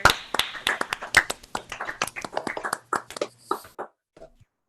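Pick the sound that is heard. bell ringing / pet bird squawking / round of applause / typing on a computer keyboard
round of applause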